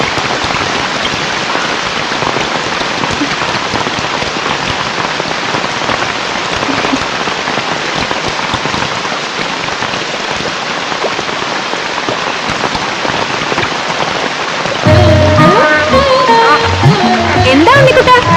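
Heavy rain pours down in a dense, continuous hiss that stays even throughout and grows a little louder near the end, where other tones join it.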